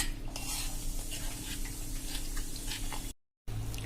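Bajra roti ladoo mixture with ghee is stirred in a pan, giving a steady run of soft scraping and light utensil clinks close by, broken by a short gap near the end.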